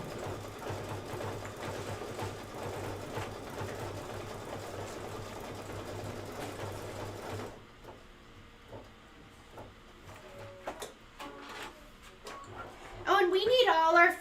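A home embroidery machine stitches a Kimberbell Candy Corn Shoppe design with a steady, continuous mechanical whir and low hum, then stops, leaving quieter rustles, clicks and a brief high-pitched burst near the end.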